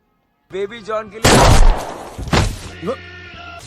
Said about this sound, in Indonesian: seorang polisi bernama Agassi menembak seorang pemilik kafe yang mengaku telah melakukan pembunuhan